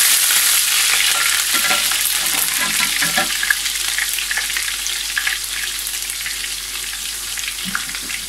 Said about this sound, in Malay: minyak dah panas, kita akan masukkan kita punya bawang yang kita dah mayang